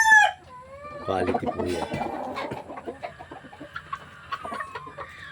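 Gamefowl, including White Kelso birds, crow and cluck nearby, one crow opening loudly, followed by scattered clucks and calls while someone talks over them.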